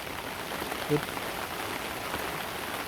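Steady rain falls and patters on surfaces nearby, a continuous even hiss with one brief faint tonal blip early on.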